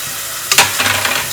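Chopped tomatoes drop into ginger garlic paste in a hot pan and fry with a sudden loud sizzle and a brief stirring scrape, then a steady softer frying hiss with no talking.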